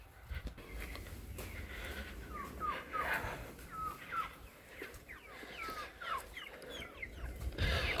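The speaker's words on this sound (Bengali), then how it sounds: "এই হচ্ছে আমাদের টাইগার মুরগিগুলা।" Tiger breed chickens, a flock of about 25 on a farm, cluck and chirp in repeated short calls over a low outdoor rumble, with no one talking.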